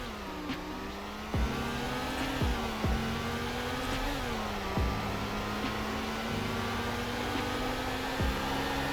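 A slow four-speed car in the Roblox game Greenville accelerates through a speed test, its engine rising in pitch repeatedly as it shifts up through the gears, a steady synthetic drone with no talk.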